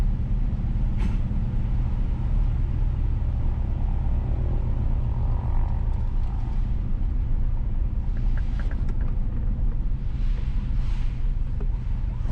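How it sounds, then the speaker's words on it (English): Car driving northwest along Montgomery Avenue in Kingston, Jamaica, a steady loud road rumble and engine drone inside the cabin, with a few faint passing sounds. "Currently, we are driving northwest on Montgomery Avenue towards"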